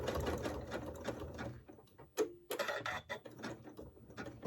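A sewing machine stitches around the leaves of a pumpkin table runner in quick, close bursts of rapid mechanical whirring, broken by a short pause and a brief click before running again.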